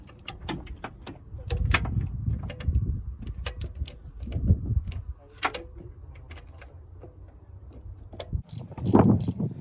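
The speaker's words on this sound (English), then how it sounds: "this bottom one, which is a 12mm nut or bolt, and you're gonna have to use deep sockets" Ratchet wrench with a deep socket loosening the 12mm lower alternator bolt on a Honda Accord, a series of quick clicking bursts with clanks of metal, close and fairly loud, no talking.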